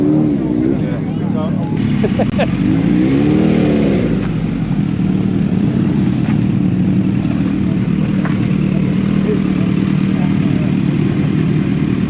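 Motorcycle engines idle and rumble at an evening bike meet at Ashby Folville, a steady loud drone with a brief rising rev, under people talking nearby.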